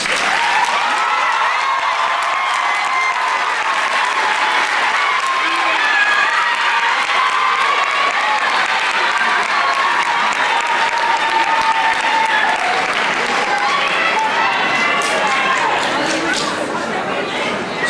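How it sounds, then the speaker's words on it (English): A large crowd at a high school commencement ceremony applauds honors graduates in a long, steady wave of clapping with murmured chatter and occasional cheers, sustained for nearly eighteen seconds. "please stand to be recognized by a round of applause"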